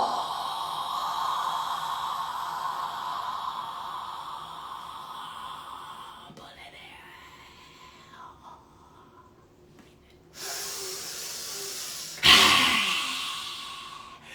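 Deep, exaggerated breaths drawn in and pushed out during a morning qi gong session, a long airy whisper of an inhale fading into quiet, then two sharp forceful exhales near the end, close and alone without talk.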